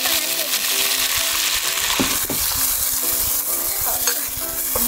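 Pickled vegetables stir-fried in a hot wok for a Yunnan pickled-vegetable-and-meat dish give a steady, close sizzle, with repeated spatula scrapes and stirring clatter throughout.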